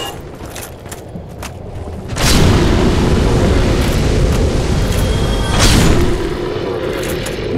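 Fire breathers blasting fire in Dark Souls, a loud roaring whoosh that surges in and sustains, with a second flare-up swelling a few seconds later over low game rumble.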